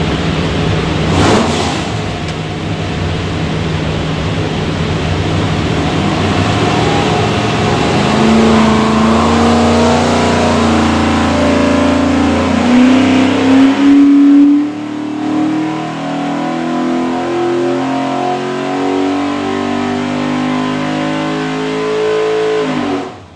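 A naturally aspirated stack-injected 427ci small-block Ford with a custom solid roller cam runs on a dyno, a loud sustained engine roar climbing in pitch through a long pull, then easing off sharply around fifteen seconds, no talking.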